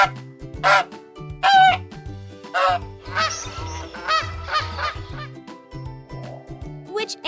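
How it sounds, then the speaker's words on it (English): A goose honks in loud, close bursts, several separate calls at first and then a busier cluster of honks, repeated over a steady low background hum. "Yes, that's a goose."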